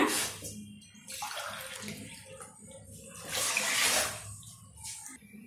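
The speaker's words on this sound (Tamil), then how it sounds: "நான் இப்போ ஒரு 4 டம்ளர் தண்ணி ஊற்றுறேன்" Water pours in uneven splashing bursts into a pot, about four tumblers for semolina pongal, rising and falling over several seconds, close and fairly clear, with no one talking.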